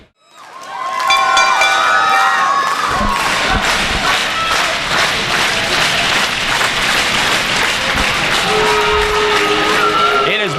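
A live professional wrestling crowd in Canton, Texas roars continuously, loud cheering, shouting and clapping filling the hall at steady volume, with occasional thuds and a commentator speaking underneath.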